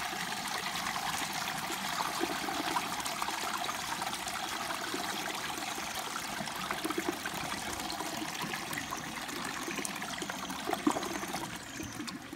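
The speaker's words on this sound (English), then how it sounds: "I guess it really did a double flush because the first flush just kept continuously siphoning and then it stopped and then siphoned out" Gerber Aquasaver round front toilet double flushing: a steady, continuous rush and trickle of water siphoning through the bowl, fairly even in level throughout with no talking.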